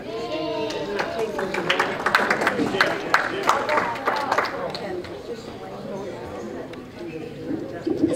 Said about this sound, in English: You can applaud, you can applaud.